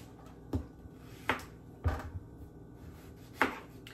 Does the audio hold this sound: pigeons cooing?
no